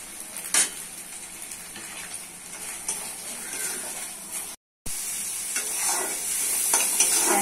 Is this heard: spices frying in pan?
yes